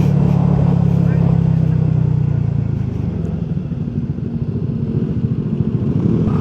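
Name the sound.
Honda Giorno 160cc scooter riding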